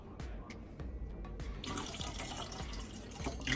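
Milk poured from a container into a bowl of six cracked eggs for French toast; a short pause with small clinks, then a steady, close liquid pour running for a couple of seconds.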